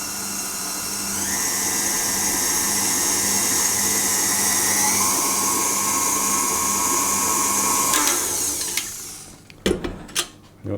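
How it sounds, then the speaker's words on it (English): Electric hand mixer beating cupcake batter with coconut milk, a steady high whine that shifts pitch as speed changes, running loud and continuous for about eight seconds before stopping, followed by a few clicks and knocks. "You want to mix it till it's combined and keep scraping down the sides."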